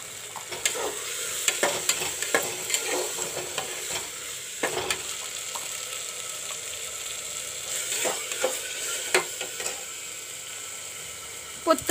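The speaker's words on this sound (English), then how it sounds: "Now I will put in the arahar ki daal." Washed arahar ki daal stirred into frying tomato and onion in a pan, a steady sizzle with scattered scraping and clinking from the utensil, no talk.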